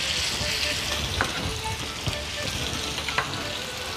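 Pork tenderloin cut into sticks fries in a pan, with a dense, continuous close sizzle and a few soft clicks of stirring or turning.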